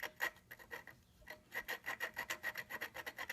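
Valve lapping on a 1954 Briggs & Stratton 5S engine: quiet rhythmic gritty rasping as the valve is turned back and forth against its seat, about a dozen short strokes with a brief pause.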